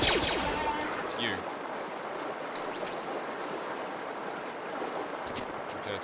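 Water in the Jedi Knight video game, a steady broad rushing wash like flowing water or surf, fairly loud at first and then settling into an even continuous roar.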